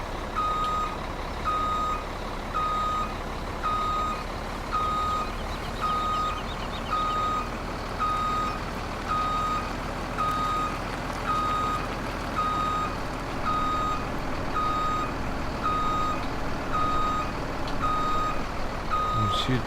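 Trailers reversing in Farming Simulator 2017 set off a steady, evenly spaced electronic reversing beep that repeats throughout over a continuous low truck engine rumble, with no talking.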